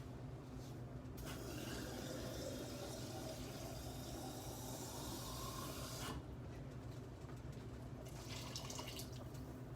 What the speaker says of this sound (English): So I'm just adding a little bit more water to that because it looked like it's evaporating a little too fast